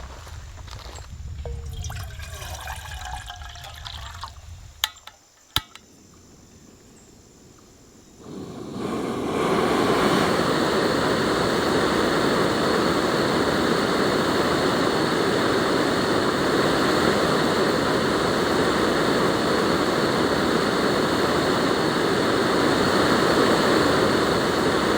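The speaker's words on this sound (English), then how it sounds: "let's do a quick boil test, and let's see just how powerful this stove is" A JetBoil MightyMo gas stove is lit for a boil test on 16 ounces of water. Faint clinks and handling come first, then the burner catches and roars at a loud, steady level to the end.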